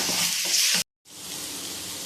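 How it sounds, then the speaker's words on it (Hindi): Daal maash frying on a medium flame gives a steady, close sizzle that cuts out briefly, then returns a little quieter and keeps hissing evenly. "दाल को हम मीडियम फ्लेम पे 10 से 12 मिनट के लिए फ्राई कर लेंगे"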